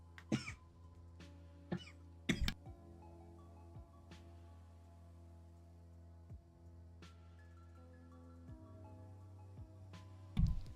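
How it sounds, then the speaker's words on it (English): Several short coughs sound close to a microphone at irregular intervals over a quiet room hum, a cluster early on and another near the end. "Could not remember which mic to mute when I coughed"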